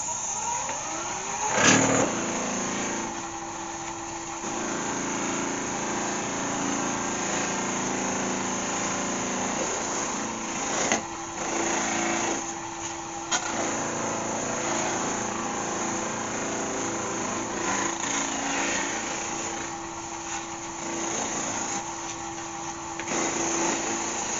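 A wood lathe spins as a turned cherry wood bowl from a green log is buffed, a steady motor hum with a tonal whine and occasional rubbing bumps, continuous and moderately close.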